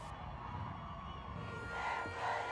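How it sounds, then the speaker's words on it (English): Crowd of protesters chanting and shouting in the streets of downtown Los Angeles, a dense roar of many voices that swells louder toward the end. "In downtown Los Angeles, the protesters' chants echoed through the streets."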